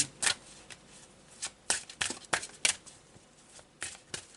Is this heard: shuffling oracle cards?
yes